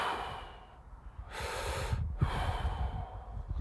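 A person demonstrating belly breathing takes one deep, airy breath in, then releases a long, steady breath out, close and quiet with no talking.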